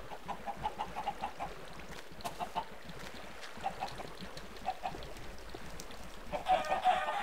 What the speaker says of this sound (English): There we go, here come the chickens.